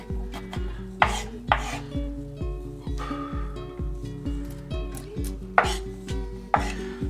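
A knife chops garlic on a cutting board in a steady rhythm of about two strikes per second. The chopping is close and clear, with no talking.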